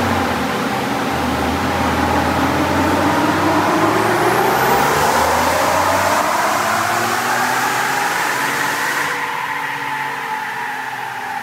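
Engine of a 2020 Ford F-150 FX4 pickup roaring steadily on a dyno, pitch sweeping upward under load for about nine seconds before easing off, loud and close with no talk.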